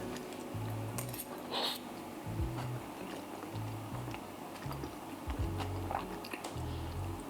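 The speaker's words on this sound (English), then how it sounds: "There's 0 chance of me eating this daintily, so shove it in one." Someone eats a large mouthful of vegan cannelloni at close range, with faint, repeated chewing and soft mouth sounds, plus a few light clinks of cutlery.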